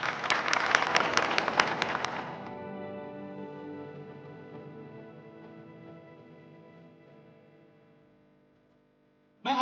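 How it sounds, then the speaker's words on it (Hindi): A brief burst of dense audience clapping at a foundation event, loud at first, then cut off sharply and followed by a long, fading reverberant musical tail. "जिसे चाहूंगा कि आप लोग जोरदार ताली बजाएं।"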